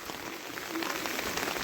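Heavy rain falls steadily outdoors in a flooded area, a dense, even hiss of drops striking surfaces close by, with no voices.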